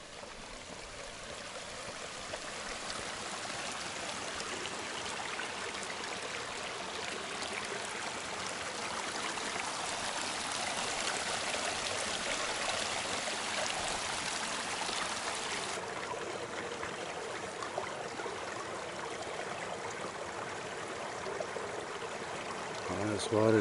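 Steady rushing and trickling of a cold seasonal creek flowing nearby in Mount Rainier National Park, a continuous broadband wash of water that holds constant throughout.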